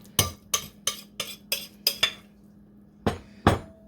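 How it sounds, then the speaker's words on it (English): A utensil scraping the last of a manicotti filling mixture out of a bowl: seven evenly spaced sharp clinks against the bowl, a short pause, then two more knocks, close and clear with no talking. "let's scrape our bowl. Let's get the last of this in."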